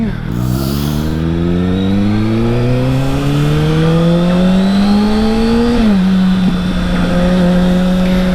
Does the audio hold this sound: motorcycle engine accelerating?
yes